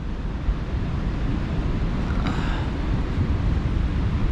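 Constant heavy roar of surf and wind on the Oregon coast during a super tide, with waves surging in steadily and no voices.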